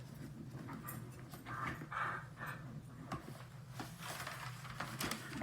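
Pet dogs panting rapidly indoors with occasional whimpers, a faint, close, uneven rhythm of breaths with no speech.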